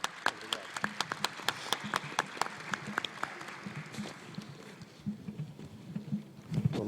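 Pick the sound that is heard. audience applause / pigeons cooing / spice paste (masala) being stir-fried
audience applause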